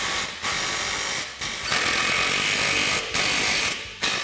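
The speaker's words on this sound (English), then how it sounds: "we're going to tighten up our radius arm" A ratchet tightening the radius arm on a Polaris RZR Turbo S during a portal gear install, continuous close clicking in several strokes with brief pauses between them.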